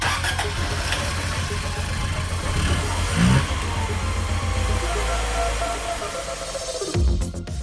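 A Toyota Corolla engine cranks, catches and runs for several seconds with a steady low rumble after a tune-up, the sound loud and close, then cuts off near the end.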